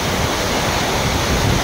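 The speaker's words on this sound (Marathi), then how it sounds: "चोर चावडी धबधबा आहे बघा." The Chorchavdi waterfall near Dahivad, Deola rushes through a narrow gorge, heard close as a loud, unbroken wash of falling water with no voices.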